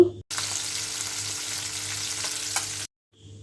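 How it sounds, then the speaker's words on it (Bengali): Tengra fish coated in salt and turmeric sizzles steadily in hot oil in a pan, a constant crackling fry that cuts off abruptly, followed by a brief silence and a faint return. "এখন মাছ লবণ হলুদ দিয়ে আগে বেজে নেব"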